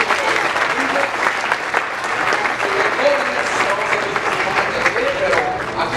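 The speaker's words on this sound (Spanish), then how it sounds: "Quisiera que diéramos un aplauso al Señor por cada uno." A church congregation claps together in a sustained, dense round of applause lasting several seconds, with voices murmuring and calling out beneath the clapping.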